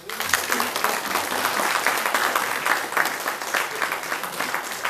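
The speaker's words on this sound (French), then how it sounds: "j'aimerais que vous les applaudissiez" A crowd at a Cousance citizens' information meeting applauds the municipal staff, a sustained, lively round of clapping with a murmur of voices mixed underneath.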